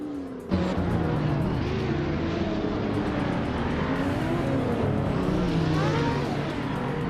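A 2011 Lamborghini Aventador V12 revving hard in a racing video game, a loud sustained engine roar with pitch sweeping up and down through gear changes, heard close and continuous.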